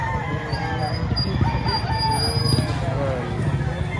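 Roosters and chickens at a poultry expo in the Philippines, with a crow and scattered clucks over a busy background of people talking and other birds, fairly close and continuous.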